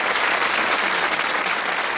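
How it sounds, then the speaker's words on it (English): Warm studio audience applause on a British TV darts game show, a full, even roar of many hands clapping close and loud, with no voices over it. "Give him a nice warm round of applause."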